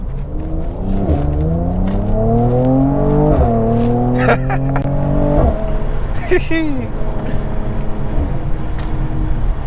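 Mercedes C43 AMG in Sport Plus mode with the exhaust open, accelerating hard through several rising gear pulls with sharp shift breaks, loud and close from inside the cabin, followed by a quieter cruising drone.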